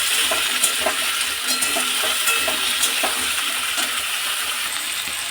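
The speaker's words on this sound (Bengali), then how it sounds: "আলু আর পেঁয়াজটাকে একটু ভেজে নেব" Potato and onion sizzle in hot oil while a utensil stirs them, giving a steady frying hiss punctuated by repeated scraping strokes, close and clear with no talking.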